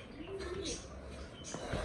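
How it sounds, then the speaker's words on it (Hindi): Pigeons coo softly in a backyard coop holding about eight birds, a faint low warble repeating under a man's speech. "तो यहाँ पर तकरीबन आठ एक कबूतर हैं"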